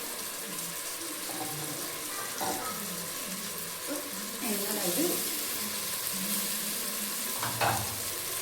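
Water poured into a pan while cooking chicken biryani, a soft running splash with low sizzling and a few clinks, moderately close and steady.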